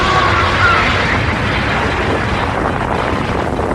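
A jettisoned liquid oxygen pod explodes in a sci-fi audio drama, a loud, sustained roaring blast that fills the whole moment and slowly fades.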